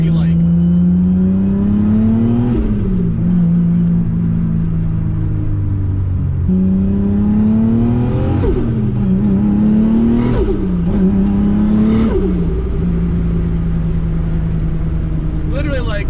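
Toyota Supra with a 2JZ engine running on E85 revs through a pull, several rising and falling engine sweeps with a smooth steady drone, loud and near, with a voice talking over it.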